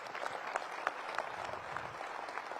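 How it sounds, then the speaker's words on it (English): Audience applause at a Ward 6 DC government event, a dense, steady clapping from a crowd that carries on without break, with no talking over it. "Can you give them a big round of applause?"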